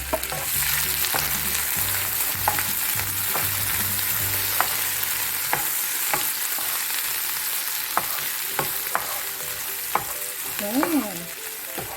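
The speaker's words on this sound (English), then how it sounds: "So now we fry the head prawn." Prawn heads and garlic fry in hot oil, a steady bright sizzle holding throughout with scattered sharp ticks and pops; a low hum sits underneath early on.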